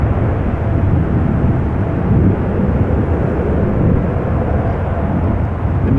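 A KLM jet departing Amsterdam Schiphol for Lima roars steadily and loudly throughout, a broad low rumble of engines at takeoff power with no talk.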